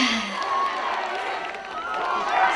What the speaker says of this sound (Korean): 이렇게나 호응을 많이 해주시고 박수 치신 분들은